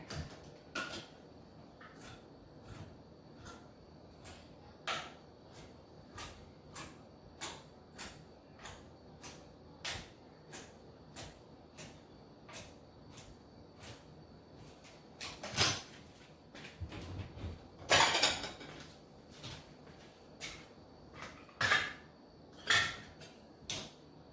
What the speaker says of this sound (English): So I open up the can of jackfruit